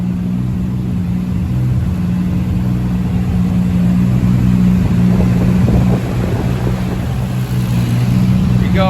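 A built Lexus IS300 engine runs hard on a dyno, a loud sustained steady drone with a strong low hum, holding near-constant pitch throughout with no clear rise or fall.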